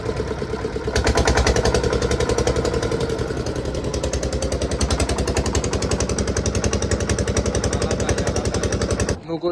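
A fishing boat engine on the Bay of Bengal, out for hilsa, fires up after a second and settles into a loud, steady, rapid chugging that runs nearly to the end before cutting off.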